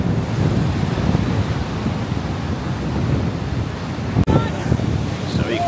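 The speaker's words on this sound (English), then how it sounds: "The whole of the sea is coming right over." Storm waves crash over the sea wall at Blackpool as a constant loud roar of surf and wind buffets the microphone throughout, with no voices.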